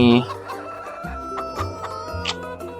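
Chickens in the Farming Simulator 22 video game cluck in a quick, close series of short calls over a steady background game tone.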